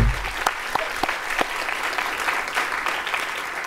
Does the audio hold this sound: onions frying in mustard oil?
no